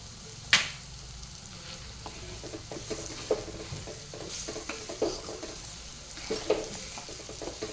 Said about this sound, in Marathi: मंद आचव आपल्याला हे परतून घ्यायचे मसाले छान परतून झाले